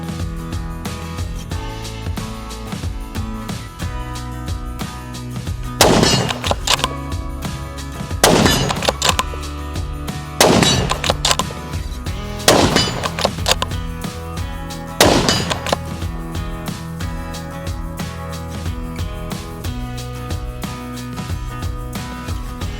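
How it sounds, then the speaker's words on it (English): Five loud rifle shots from a Sauer S100 Ceratech bolt-action in .243 Winchester, each a sharp crack with a short ringing tail, spaced a few seconds apart over a steady background hum. "Today I'm checking out the Sauer S100 Ceratech rifle in 243."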